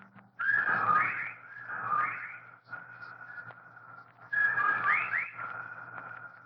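Eerie whistling sound effects from a radio drama: wavering tones rise and fall in several separate swells, moderately loud over a low steady hum, with no talk.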